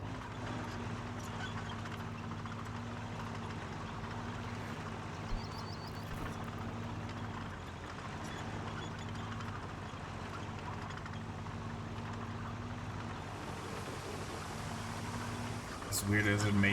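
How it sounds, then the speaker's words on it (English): A big truck engine idles in the video game RoadCraft as a low, steady rumble with an even hum, quiet and continuous throughout. "the sound of a big truck engine idling has something soothing"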